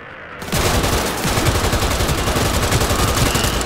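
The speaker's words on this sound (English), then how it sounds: "Oh, this is a fully automatic rifle." A fully automatic rifle in Cyberpunk 2077 fires a loud, sustained burst of rapid shots after a brief quieter moment, dense and close with no pause in the rattle.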